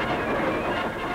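A wartime supply train of boxcars rolls along the rails, a brief steady rumble of wheels and cars close by, with no voices.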